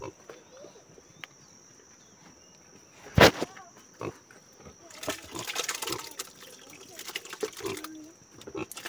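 Pigs at a rural hill farm in Nepal grunt and snuffle while being fed, with wet sloshing of feed and a sharp clatter partway through, heard fairly close among scattered farm noises and brief talk.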